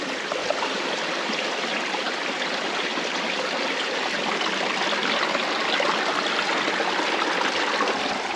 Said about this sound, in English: I want to get up to the next little pool that I can see the water running down from